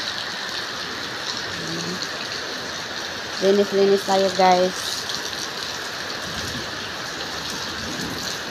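Heavy rain pours steadily beside a house swimming pool, a constant dense hiss throughout, while a voice speaks briefly partway through.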